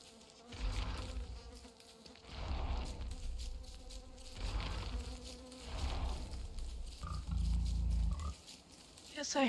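Pigs in the video game Don't Starve make low, repeated grunting oinks, rising and falling in a loose rhythm at moderate volume against background game ambience.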